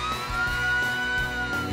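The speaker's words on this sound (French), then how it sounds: "Ça ressemble à une sirène de pompiers!" A cartoon fire engine siren wails continuously at a steady pitch, loud and close, with no voices.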